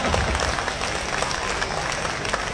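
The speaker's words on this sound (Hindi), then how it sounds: "तालियां उठाओ तो ढंग से उठाया करो।" A crowd at a night event of the Khajuraho film festival applauds loudly and steadily, dense clapping filling the space without a break.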